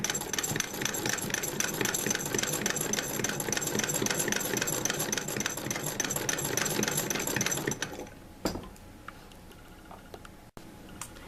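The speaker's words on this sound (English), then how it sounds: "And now these seams are sewn with your normal stitch length." A sewing machine stitches the seams of a throw pillow with a fast, steady mechanical whir and rattle for about eight seconds, then stops, leaving a few soft clicks and handling noises.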